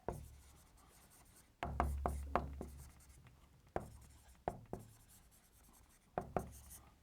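Pen or chalk writing equations by hand, a quiet run of scratchy strokes and sharp taps in short bursts with pauses between them, close by and alone.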